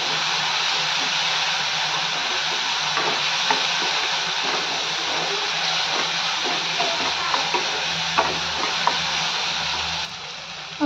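Tomatoes, green chilli and onion with salt sauté in a pan for dal tadka, a steady close sizzle with light stirring clinks and scrapes throughout, no talking.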